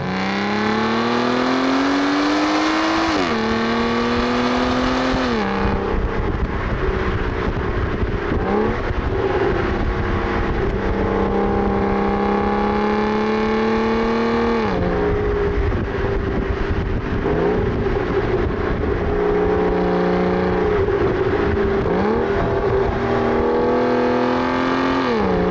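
An Aston Martin DB9 engine is heard on the move, its revs climbing steadily and then dropping at each gear change, loud and close throughout with a smooth, rising drone.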